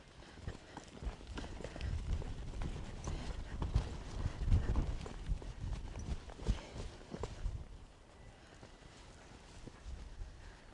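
A horse walks around a round pen under a rider, its hooves thudding in an uneven, close rhythm on the ground. A quiet voice is heard here and there.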